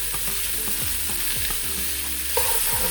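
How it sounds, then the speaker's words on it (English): Seasonings and garlic sizzle loudly in hot oil for yellow saffron rice, a constant close frying hiss with repeated spatula scrapes as they are stirred in. "And mix that into the oil."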